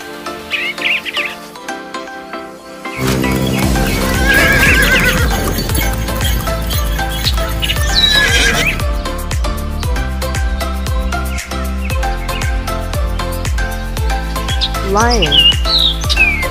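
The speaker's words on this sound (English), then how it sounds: "Horse." A horse whinnies with rising and falling neighs, mixed with clip-clopping hooves, bird chirps and steady background music.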